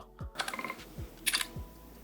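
Ray-Ban Meta Wayfarer smart glasses (2024) capture a photo, heard as a crisp series of small clicks and electronic shutter chirps, close and quiet, in brief clusters.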